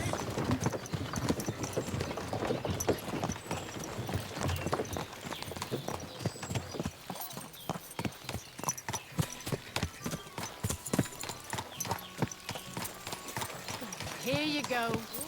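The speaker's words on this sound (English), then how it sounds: "Watch out with that horse." Horse hooves clip-clop in a steady, rapid patter that runs throughout, with voices in the background.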